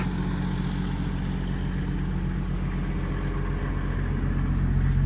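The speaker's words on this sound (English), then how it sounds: "When I run the crane, it should idle up based on the load being demanded" A 2018 Ford F750 diesel truck with a Stellar 12630 crane and 133k miles idles with a steady, loud low rumble that rises slightly toward the end, running alone with no voices.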